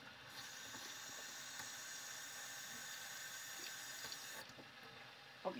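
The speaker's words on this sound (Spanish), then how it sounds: "Entonces aquí le voy a echar un poquito de agua" Water poured from a tap into a pot in a home kitchen while cooking rice, a steady faint rushing hiss that continues evenly and then stops, with small clinks near the end.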